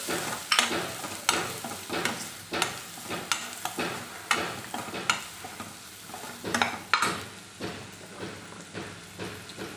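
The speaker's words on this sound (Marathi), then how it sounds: "गरम मसाला, लाल तिखट मिक्स करून घ्यायचं आहे" Garam masala and red chili powder being mixed into a filling for aloo puff patties: close, repeated scraping stirs in a steady rhythm, with no talking.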